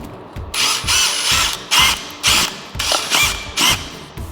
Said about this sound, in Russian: Теперь я беру шуруповерт. У меня на нем стоит вот такой венчик от обычного миксера.